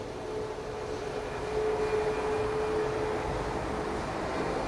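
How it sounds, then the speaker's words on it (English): A Cayman Airways Boeing 737 Max 8 taxis past at Grand Cayman airport. A steady engine drone swells slightly as it goes by, and a thin whine holds over the broad rumble. "give you a look at this Max 8 as it taxis past us"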